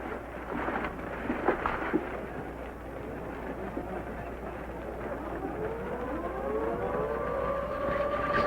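A civil defense air raid alert siren rises slowly out of a background of rain and distant rumbling thunder, its wailing tone climbing toward the end, fairly far off.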